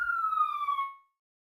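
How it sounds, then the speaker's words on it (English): A siren wail with a clear falling pitch sweeps past for about a second, then fades quickly into silence. "That's the siren going through."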